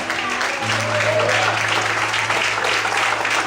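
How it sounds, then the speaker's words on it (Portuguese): A church congregation applauds during a sermon, steady dense clapping filling the room for several seconds with a low sustained tone beneath. "Será que você pode aplaudir o Senhor?"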